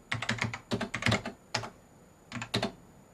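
Someone types on a non-membrane computer keyboard, crisp clacking keystrokes in quick bursts with brief pauses, close and clear with no talking.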